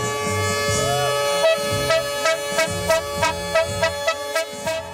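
Car and truck horns honk during a protest in front of a legislative assembly, joined by school transport workers and truckers: a sustained blaring drone with repeated short toots in a steady pulse, loud and close.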